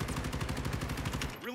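Rapid automatic gunfire from Call of Duty Modern Warfare in a 2v2 match, a steady fast burst of repeated shots that stops abruptly near the end, with a brief game tone following.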